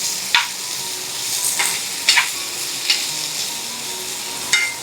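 Tomatoes sautéing with onions in a pan, the soft hiss of frying broken by several distinct scraping strokes of a spoon, close and clear with no talking.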